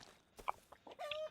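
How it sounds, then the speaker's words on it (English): A Rust chicken gives two or three quick clucks close by, the last one a drawn-out squawk, with no talking around it. "Oh, a chicken."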